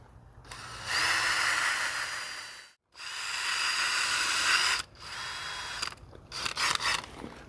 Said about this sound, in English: See, that's pretty darn easy to drill those holes